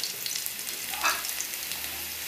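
Chopped onion browns in a pan as the base for rice with jiló, an even close sizzle with a brief brighter crackle near the middle.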